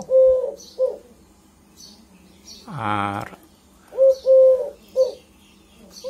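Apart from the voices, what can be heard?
pigeons cooing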